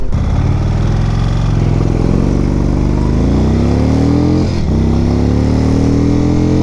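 An Indian touring motorcycle with a 111 engine accelerates hard to 60, its loud, close engine note climbing steadily through the gears with a brief dip at a shift, then pulling on with a rising drone.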